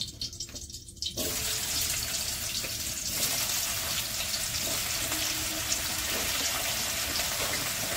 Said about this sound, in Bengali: তো এবার কুমড়োটা ভেজে নেবো।